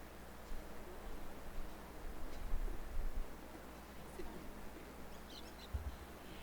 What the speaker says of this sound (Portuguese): com o cantar dos pássaros